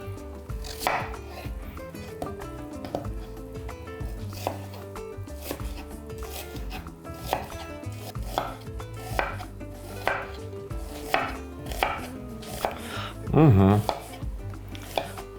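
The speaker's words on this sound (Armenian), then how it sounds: "Կտրատում ենք փետրաձև, վաղուց փետրաձև չենք կտրատե սոխը։" Three medium onions sliced lengthwise into thin wedges with a knife on a board. Close, crisp knife strikes come in a steady, even rhythm throughout, with a brief louder clatter near the end.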